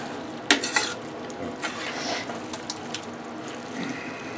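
Louisiana Creole-style jambalaya rice, nearly done after twenty minutes of simmering, gets stirred in a pot, with a few close scraping and clanking strokes over a soft bubbling hiss and no voices.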